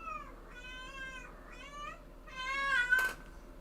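An indoor house cat meows insistently, three drawn-out wailing calls close to the microphone, the last one loudest and ending in a brief sharp noise.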